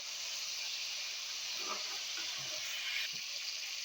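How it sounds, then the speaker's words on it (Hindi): Slit green chilies sizzle in hot oil for a daal tadka: a soft, steady hiss of frying that holds throughout, with a few faint pops and stirring knocks near the middle. "यहाँ पे मिर्चें भी हमारी फ्राई हो चुकी हैं"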